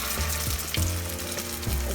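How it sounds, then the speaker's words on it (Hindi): Mutton seekh kababs frying in oil in a karahi, a dense steady sizzle with occasional pops and crackles, loud and close, no voices. "साइड फेसिंग करके रख रही हूँ, हमें साइड में फ्राई करना है इसलिए"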